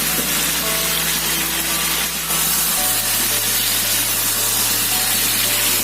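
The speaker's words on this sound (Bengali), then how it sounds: "এবার আমি ভেজে রাখা টমেটো আর পেঁয়াজটা দিয়ে দিচ্ছি" Fried tomatoes and onions tipped into a hot pan for egg curry, a steady loud sizzle and hiss of frying with a shift in tone partway through, close and continuous.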